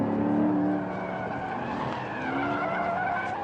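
A 2015 Chevrolet Corvette Stingray V8 on Michelin tires squeals its tires while cornering, a sustained skidding whine over a throaty engine drone, close and loud with no talking.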